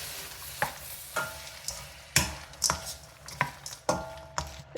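Frozen carrots and peas are stirred into egg fried rice frying in a pan, a continuous sizzle punctuated by irregular scraping strokes of the spatula, close and fairly loud.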